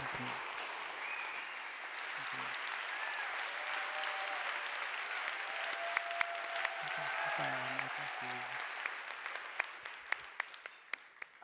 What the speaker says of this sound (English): I'm going to keep clapping